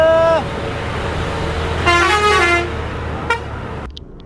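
Dense traffic on a Meghalaya mountain road, with repeated car and truck horn toots over a steady engine rumble as vehicles overtake; a longer blaring honk sounds midway, and someone speaks briefly.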